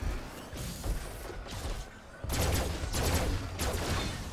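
Gunfire in the PSVR game Farpoint during alien warfare: bursts of sharp, rapid shots in quick clusters, loud and close, with heavier volleys in the second half over game ambience.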